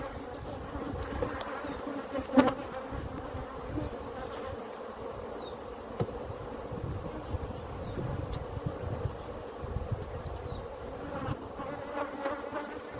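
Africanized honey bees drone steadily around an open hive during a brood frame inspection, a close, continuous buzz with a few sharp knocks and passing wingbeats, no talking.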